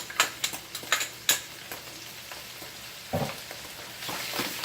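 Garlic sizzling in a pan for chicken marsala, with a few scraping stirs and taps of a utensil early on, then a soft, steady fry.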